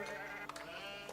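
A single sheep in Age of Empires IV gives a drawn-out, wavering bleat, fairly loud and close, with nothing else around it.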